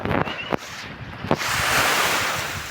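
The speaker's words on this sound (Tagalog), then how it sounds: "So pakita ko lang sa inyo mga katindero ang dagat." Sea surf washes onto a beach under gusty wind buffeting the microphone, with a few sharp knocks early on before a broad, steady roar of breaking waves takes over.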